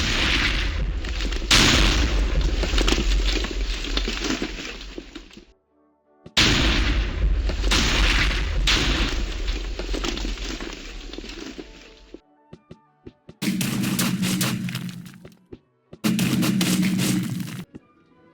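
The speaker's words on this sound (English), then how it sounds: "with working cannons that can elevate and fire" Cannons firing on a working ship built in Minecraft, several loud booming blasts in separate bursts with sharp cuts of silence between them, heavy and close.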